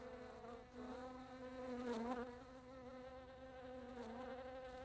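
Flies at Argos buzz close by, with a high droning whine that rises and dips in pitch as they move around, steady and fairly faint.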